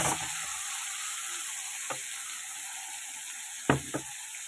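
A spice paste of tomato, cumin, ginger, dried chili and bay leaf sizzles steadily in a hot pan, a quiet constant hiss broken by a few brief clicks of stirring.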